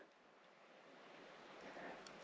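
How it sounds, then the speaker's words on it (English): Water rushes past on a mountain hike with little breeze, a soft, continuous hiss that swells slightly toward the end. "It's just a bit of sound of water running past."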